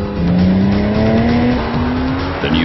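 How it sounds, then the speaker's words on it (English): A Porsche Cayman engine runs loud and steady close by, its tone rising gradually like a smooth acceleration, with a rich rasp and no talking over it. "The engine sound is rich and distinctively Porsche."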